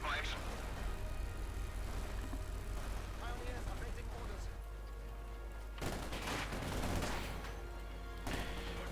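Gunfire from the video game Company of Heroes 2 crackles in dense, overlapping bursts beneath a continuous battle din of engines and explosions, while a commentator talks over it throughout.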